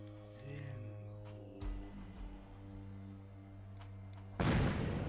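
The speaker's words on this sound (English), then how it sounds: "the barrage of Natalis gunfire roars through the skies" A gunfire barrage in the Code: Realize visual novel game: sustained musical tones hold for several seconds before a sudden loud, dense burst of gunfire breaks in at the end.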